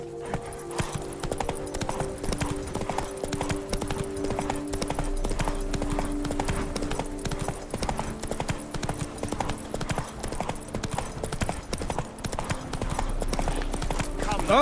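Rhythmic hoofbeats of a galloping horse in The Witcher 3: Wild Hunt – Blood and Wine, steady and close throughout, with game music and a voice talking over them.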